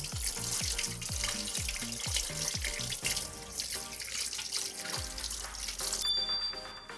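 Sardine rinsed under running tap water in a kitchen sink: a close, steady splashing stream with dripping and a run of rhythmic hollow plops, followed by a softer trickle, with no talking.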